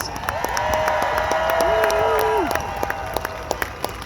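A crowd at an outdoor political rally applauds the two event organizers, with broad clapping and some cheering and voices over it, thinning into scattered individual claps toward the end.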